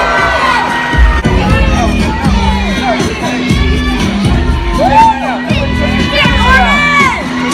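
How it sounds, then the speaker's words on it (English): A crowd at a fan convention cheers and applauds guests, with loud whoops, shouts and children's cries rising and falling over several seconds. "Everybody give them another round of applause."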